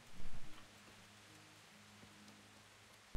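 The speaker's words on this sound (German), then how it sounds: "Oh, hier regnet es durchs Dach." Steady patter of rain dripping through a roof in the video game Kingdom Come: Deliverance, a soft continuous hiss with a few louder drips at the start and end.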